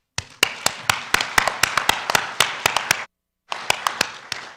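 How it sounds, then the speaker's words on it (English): Sharp, distinct hand claps ring out in a quick uneven patter at a Northern Narratives celebration event, pausing briefly before a few more close, crisp claps follow. "Can we all please give a round of applause for the Northern Narratives"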